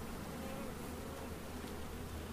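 Honeybees hum in an open hive on a calm day, a steady, quiet, even drone throughout with no single bee standing out.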